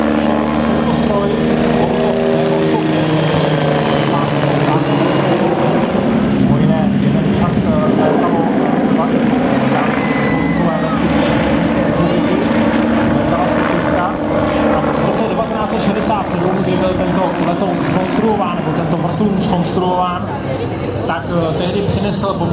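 A Eurocopter MBB Bo105C helicopter from The Flying Bulls performs aerobatics at the Pardubice air show, its rotor and engine roaring loud and steady throughout while someone narrates over it.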